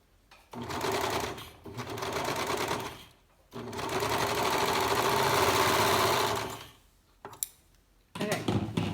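A sewing machine runs in three close, loud bursts of rapid mechanical stitching through fabric, with short pauses between them and a faint click near the end.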